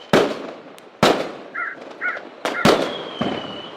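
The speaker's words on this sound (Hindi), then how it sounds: "हर जगह पटाखे फूट रहे थे।" Several sharp firecracker bangs go off at irregular intervals, close and loud, with short crackling tails and a couple of crow-like caws between them.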